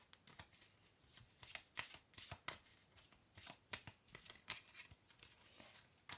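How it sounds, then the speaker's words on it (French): A deck of oracle cards being shuffled by hand, with quick riffling bursts and soft papery slaps in an irregular rhythm, close and fairly quiet, with no talking. "Vous voyez que les cartes se mélangent très bien."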